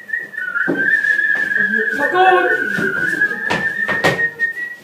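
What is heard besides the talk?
whistling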